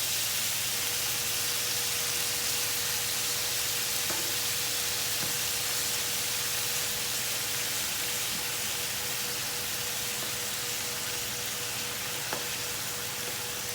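Shrimp sizzle while browning in a pan over medium-low heat, giving a steady, even hiss with occasional tiny pops and no talking.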